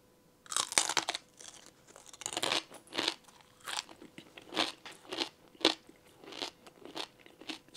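Loud, dry crunching from bites and chewing on a dried scorpion, a series of crisp crackly bursts in an irregular rhythm, close up with no talking.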